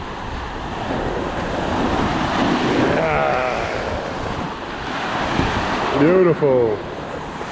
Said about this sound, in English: Ah, biggie waves.